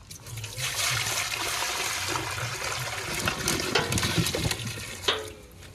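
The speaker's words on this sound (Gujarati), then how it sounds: "સૌથી પહેલા આપણે જે ટામેટા છે એને આપણે સારી રીતે ધોઈ નાખીશું" Running water pours and splashes steadily as tomatoes are washed outdoors at a farm, a continuous close trickle and splatter with a few sharper splashes near the end.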